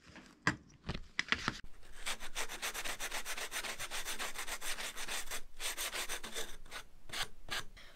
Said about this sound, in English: We got it all sanded with this sanding block